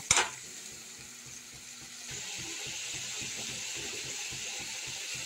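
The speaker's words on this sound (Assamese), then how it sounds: "এতিয়া ইয়াৰ বিলাহী আৰু পিঁয়াজৰ কেঁচা গোন্ধ নোযোৱালৈকে এইখিনি ধুনীয়াকৈ ভাজি থাকিম" Tomatoes and onions frying in oil in a pan, a soft steady sizzle with a rhythmic scraping of stirring throughout, preceded by a brief sharp clatter at the very start; no talking.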